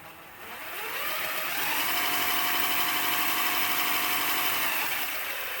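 A 200mm no-bore slow speed diamond grinder runs at about a third of its speed, giving a steady mechanical whine and hum that swells up in the first second and then holds level and close.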